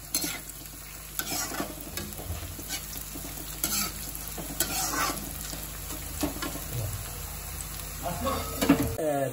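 Steady sizzling of onions frying in a pan, with a spoon scraping and stirring through it at intervals, close and fairly loud.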